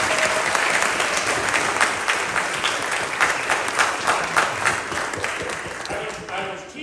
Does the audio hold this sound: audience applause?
yes